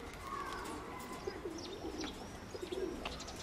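Young pigeons coo softly in low, wavering calls with a few faint chirps, heard at moderate distance over a steady background hiss.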